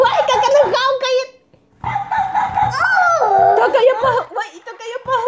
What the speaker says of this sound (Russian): Ой, как она гавкает!